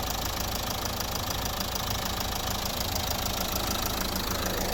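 A 1.5 dCi diesel engine in a 2010 Nissan Qashqai+2 runs steadily with a dense, even clatter and hum, close and unbroken, with no talk.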